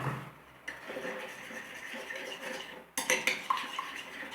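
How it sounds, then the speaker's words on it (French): A vinaigrette of mustard and pepper is whisked in a bowl, with close, steady clinking and scraping of utensil against the dish that turns sharper and louder toward the end. "on mélange bien pour essayer d'homogénéiser ce mélange"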